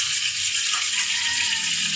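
Eggplant frying in a pan of hot oil, a steady close hiss and sizzle with fine crackling, continuous and even with no talk.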